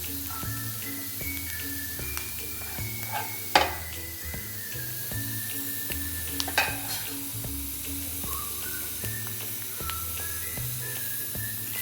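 Mushrooms for a Kerala-style thoran fry in a pan with a continuous close sizzle, while a spoon stirs them in repeated scraping strokes and gives a few sharper knocks against the pan.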